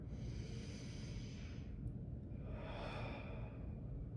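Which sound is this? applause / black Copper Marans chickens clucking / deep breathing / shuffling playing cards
deep breathing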